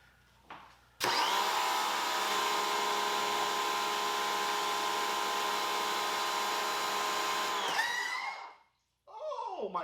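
A budget car wash pressure washer's pump and motor start abruptly and run with a loud, steady droning whine for several seconds, then wind down and cut off, followed by a brief voice.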